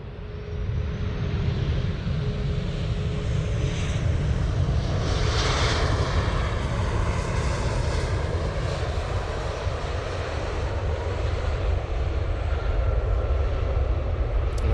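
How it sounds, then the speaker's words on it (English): An Enter Air jet airliner landing at Manchester Airport, a loud, sustained engine roar heard from nearby that swells and slowly shifts as the plane passes and touches down. "Enter Air, about to kiss the tarmac"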